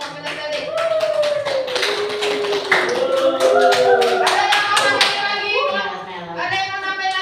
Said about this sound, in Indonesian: Tepuk tangan dulu untuk kelompok kinestetik.